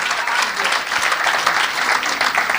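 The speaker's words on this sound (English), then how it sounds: "So a round of applause to Dr. Andre Horton once more." An audience at a People's National Party town hall in Kingston and St Andrew applauds Dr. Andre Horton, a dense, steady wash of many hands clapping at close range throughout, with no voices standing out.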